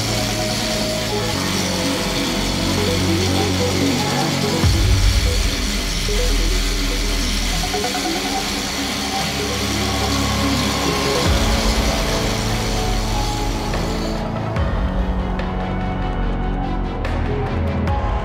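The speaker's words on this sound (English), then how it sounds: "Let's do another experiment and see what happens if we grind at close quarters." An angle grinder cutting at close quarters beside a synthetic crane rope in a workshop, a loud continuous harsh grinding whine that shifts in pitch and load several times before cutting off near the end.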